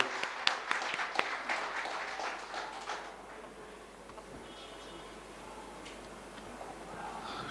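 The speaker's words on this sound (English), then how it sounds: "So a big round of applause for Mr. Shamujjal Ghosh" An audience at a 2014 annual day awards function applauds Mr. Shamujjal Ghosh, with sharp, scattered claps for about three seconds that quickly thin out and fade into quiet room noise.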